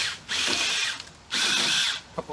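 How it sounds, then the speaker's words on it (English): A small Alloyman battery mini chainsaw cuts through roughly three-inch tree limbs in two sustained high-pitched whining bursts, each lasting under a second, with a short pause between them and a few clicks at the end. "Just let the saw do the work, even hold back a little bit"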